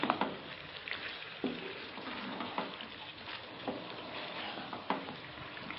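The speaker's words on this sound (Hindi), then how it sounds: "इसको अच्छी तरह मिक्स कर लेते हैं।" Chicken korma being stirred in a pan with dry coriander and salt: a soft, quiet sizzle with repeated spoon scrapes and taps at an uneven rhythm, close by, with no voices.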